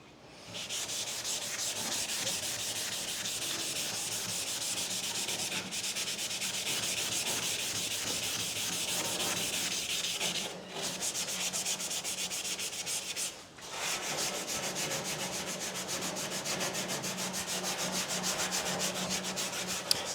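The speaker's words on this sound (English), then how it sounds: "And then we'll go and give this a scuff up with this." Steady wet rubbing of a soaked scuff pad over a rusty metal surface, scrubbed continuously and close with two short pauses and no talk.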